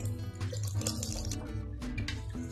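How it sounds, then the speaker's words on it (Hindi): Water pouring steadily into lentil soup in a cooking pot, a continuous close splashing gush with a slightly bubbling, liquid tone. "तीन कप पानी के डाल दें"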